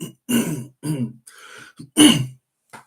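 Several close throat-clearing coughs in quick bursts, with short pauses between them and no talking.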